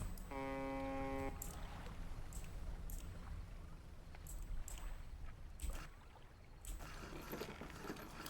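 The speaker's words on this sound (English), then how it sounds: "Oh yeah, that's how boats move." Gentle, quiet swish and lapping of water as a boat moves through it in the video game Dredge, with a brief tonal chime near the start and soft splashes throughout.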